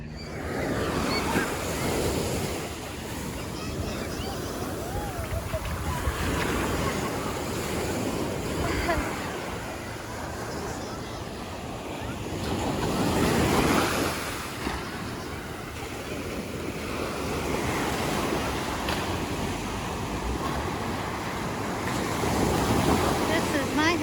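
Ocean waves roll onto a beach at Carlsbad with continuous surf and wind buffeting the microphone, swelling and receding over about twenty-four seconds. Faint voices sit under the noise.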